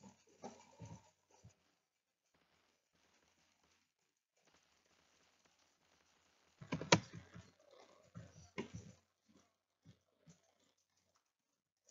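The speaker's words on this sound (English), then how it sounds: "Can you hear my clicking?" Computer keyboard keys and mouse buttons clicking during a Minecraft game, a short burst of quick taps at the start, then a louder, denser flurry of clicks midway, followed by a few scattered taps, close to the microphone with no talk.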